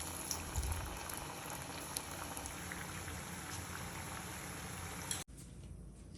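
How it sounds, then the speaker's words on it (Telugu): Pressed potato fries bubble in hot oil with a soft, continuous crackle and fizz, faint and close, before the sound cuts abruptly near the end. "వీటిని ఫ్రై చేసుకుందాం ఆయిల్లో వేసుకొని"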